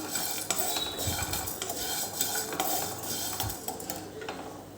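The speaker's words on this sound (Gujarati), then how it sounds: "આને હલાયા કરવાનું શેકતી વખતે પણ આપણે વચ્ચે વચ્ચેને હલાવતા જ રહેવાનું" A spoon scrapes and stirs shahi panjri as it roasts in a pan, a Janmashtami sweet, with steady metallic scraping and clinks continuing close up throughout, no voices.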